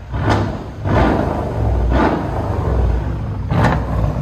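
Twin-turbo 4.7L V8 on a 2016 Mercedes CLS 550 with true dual straight-pipe exhaust, a low rumbling drone broken by four brief whooshing surges of turbo spool, heard close with no speech.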